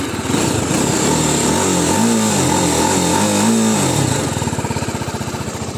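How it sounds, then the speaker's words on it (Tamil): A TVS Apache RR 310 motorcycle, BS 6.2 model, roars with a loud, close exhaust note, its throaty revs rising and falling before settling into a steady pulsing idle, with no voices. "இப்போ டச் பண்ணிட்டாலே வண்டி ஸ்டார்ட் ஆகிரும். இது எக்ஸாஸ்ட் நோட்"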